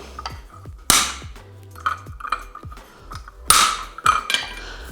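Mustad horseshoe nails are hammered into a hoof as a series of sharp metallic taps and a few harder ringing blows, close and fairly loud, spaced irregularly over a few seconds.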